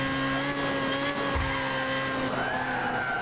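Race car in Gran Turismo 6 driving steadily, a continuous engine drone holding a near-constant pitch that rises slightly toward the end, with a faint tyre scrub underneath and no voices.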